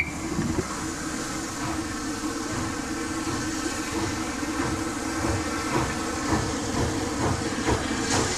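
A British express steam train rolls along steadily with constant hissing and rhythmic wheel clatter, loud and continuous, no voices.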